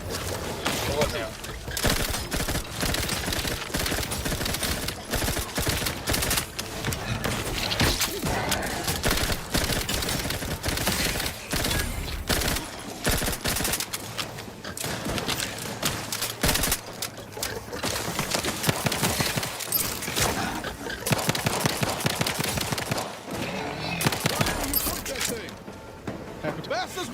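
Dense bursts of automatic gunfire in the video game Outer Worlds 2 fill the stretch almost continuously, loud and close, with a person talking over the shooting.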